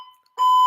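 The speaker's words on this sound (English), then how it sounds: "This alarm will be following me into my nightmares." A shrill electronic alarm sounding loudly and steadily after a faint earlier tone, a sustained piercing beep filling the short moment alone.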